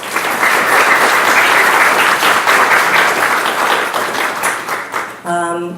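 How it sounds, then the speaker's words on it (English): Loud, steady applause from a luncheon audience at a youth enrichment program event, continuous clapping that thins near the end before a brief tonal sound cuts in. "give yourselves a round of applause"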